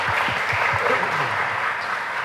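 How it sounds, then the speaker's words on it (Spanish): Audience applause at a film screening, honoring the film's editor; steady clapping fills the room throughout, with a few low voices murmuring beneath it. "Un aplauso"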